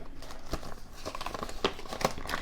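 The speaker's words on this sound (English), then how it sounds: "So I'm going to go ahead and put 20 into this envelope." Paper crinkles and rustles up close as cash notes are slipped into a paper envelope, a short run of soft crackling handling sounds with a few sharper crinkles.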